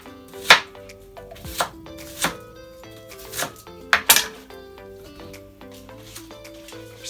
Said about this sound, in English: Scotch bonnet pepper, let's cut off the head.